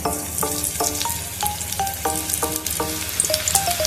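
Onion bhaji batter dropped into hot oil to test the heat, giving a steady close sizzle with a series of short, evenly spaced tonal blips running over it.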